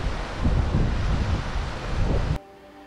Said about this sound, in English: It's just way too windy.